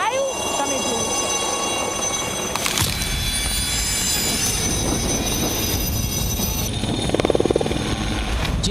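Indian Coast Guard Chetak helicopter flying over the sea during a rescue operation, a loud continuous rotor and engine roar with a whining tone, steady and close, swelling briefly near the end.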